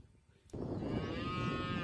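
A dairy cow at a cattle-raising ranch in the Iberá region lets out one loud, long, drawn-out moo close by, starting after a brief quiet moment.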